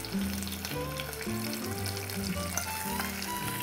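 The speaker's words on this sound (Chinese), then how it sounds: "在这边先煎，那煎的时候呢，火不要大" Chicken thighs pan-fry in oil over low heat with a continuous soft sizzle, while steady tonal music plays underneath.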